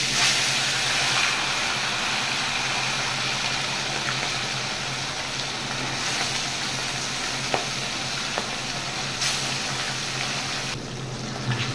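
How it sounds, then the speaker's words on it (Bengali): Parshe fish, rubbed with turmeric and salt, fries in hot oil with a steady, close hissing sizzle and a few scattered pops, with nobody talking. "তেল গরম হয়ে গেছে, এবার আমি মাছগুলো ভেজে নেব।"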